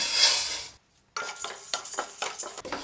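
Urad dal dry roasting in an empty kadai while a spoon stirs it, making a dry rustling scrape that breaks off for a moment and then returns as repeated close stirring strokes with no talk.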